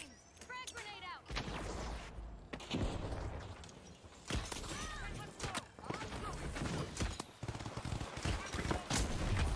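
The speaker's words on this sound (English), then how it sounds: "Frag grenade out." A frag grenade bursts amid rapid gunfire in the video game The Finals, loud, dense volleys of shots and booms crowding together with brief gaps, under a player's voice talking.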